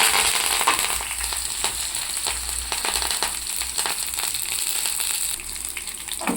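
Mustard seeds, chana dal, dried red chillies, curry leaves and cumin sizzle and crackle in hot oil for a broad beans fry, a loud continuous frying hiss with scattered sharp pops and no talking.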